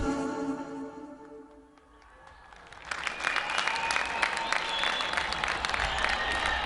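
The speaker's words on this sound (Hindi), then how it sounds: "भरपूर तालियां इन फनकारों के लिए कि जिन्होंने इतना खूबसूरत नगमा आपको दिया।" An audience at the opening ceremony of the All Pakistan T20 Cricket Cup breaks into loud, sustained applause as a sung patriotic number fades out, the clapping building to a dense, continuous roar.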